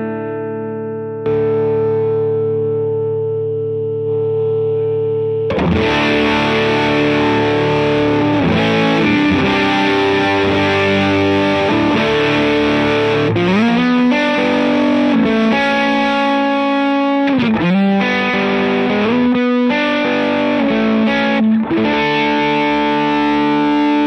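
An electric guitar runs through a Lauren Audio Mustang GT distortion pedal, starting with a clean sustained chord, then switching to thick, saturated distorted chords and riffs that ring out loud and close.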